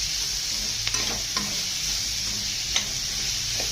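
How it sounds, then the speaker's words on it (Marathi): Tomatoes sizzle and fry in a pan for a bombil (Bombay duck) masala, with a steady hiss over a few scraping stirs. "आता त्याच्यात टोमॅटो टाकून घ्यायचं. ते पण छानपैकी परतून घ्यायचं."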